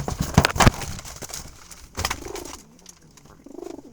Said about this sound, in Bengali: এখানে কোয়ালিটিফুল কবুতর, জালালি কবুতর পালা হয়।